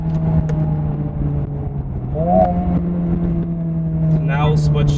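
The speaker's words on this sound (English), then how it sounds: "So plus R mode, you get a lot of that artificial induction noise." Honda Civic Type R FL5 in +R mode with an aftermarket air intake, its engine droning steadily with a rising artificial induction whoosh as the revs climb, heard from inside the cabin while a person talks over it.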